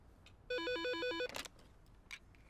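A telephone ringtone plays once as a bright, loud electronic warbling melody lasting under a second, followed by a brief rustle and faint clicks in a quiet room.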